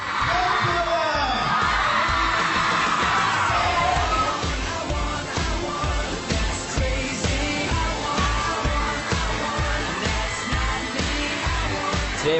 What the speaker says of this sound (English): The girls have been screaming and falling and...